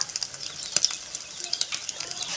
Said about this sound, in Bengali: রুটি এক করে এই যে ভাজছি